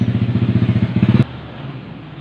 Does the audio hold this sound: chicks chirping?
no